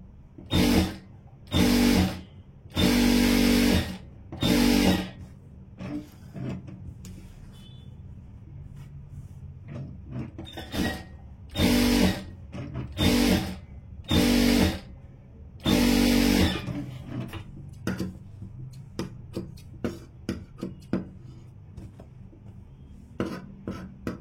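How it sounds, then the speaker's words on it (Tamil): Sewing machine stitching along the edge of an aari-work blouse lining, running in repeated loud bursts of a few seconds each with brief pauses between, close up and alone without talk. "இப்போ இதுல ஓரமா தையல் போட்டுடுறேன்"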